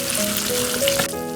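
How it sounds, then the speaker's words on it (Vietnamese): Skin-on pork belly fries in oil in a pan, the skin crisping and puffing, producing a loud, steady sizzle and crackle close up with no voices. "còn lần thứ 2 thì chỉ chiên riêng phần bì để cho bì nổ giòn đều là được"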